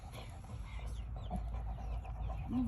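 Chickens clucking close by, a few short throaty calls over a steady low background rumble.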